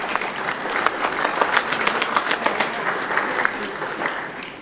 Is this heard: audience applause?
yes